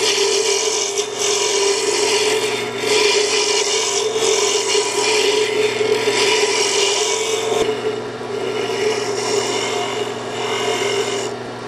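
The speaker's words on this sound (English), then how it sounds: "I'm going to slow down just a little bit so I can really get rid of the tooling marks" Wooden pen turning on a lathe at slowed speed, with a tool cutting away tooling marks beside pen spacers: a steady, loud rasping scrape over a constant motor hum, continuous throughout with slight swells.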